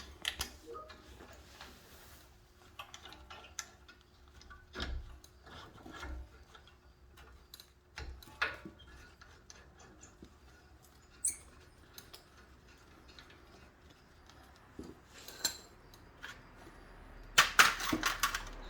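Brake caliper bolt on a 2017+ Honda Pilot being fastened with a 17 mm socket: quiet, scattered metallic ticks and clicks of the ratchet and bolt, close up, with brief louder rattles near the end and no talk.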